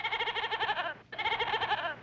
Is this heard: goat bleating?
yes